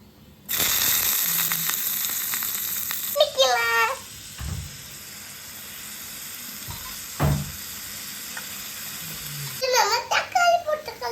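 Onions hit a hot pan for kurma with a sudden loud sizzle that keeps frying steadily, while children chatter and babble over it at intervals.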